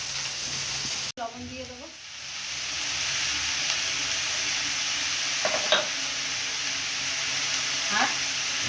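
Ash gourd frying and being stirred in a pan, a steady soft sizzle with a few scraping stirs and one sharp knock, while someone speaks briefly at the start.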